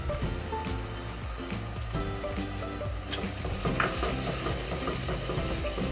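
White cumin seeds frying in a pan for keema masala, a steady close sizzle with light stirring and clinks throughout, no talking.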